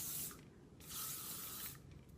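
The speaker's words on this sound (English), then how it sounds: "I'm gonna give it a good spray with L'Oreal Elnet Satin Spray" L'Oreal Elnet Satin hairspray hisses onto hair in three short close bursts, each a soft airy spray separated by brief pauses, quiet overall.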